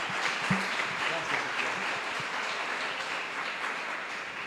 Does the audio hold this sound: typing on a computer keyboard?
no